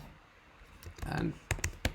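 Typing on a computer keyboard during a workshop, a handful of sharp, close key clicks in quick succession, partly under quiet talk.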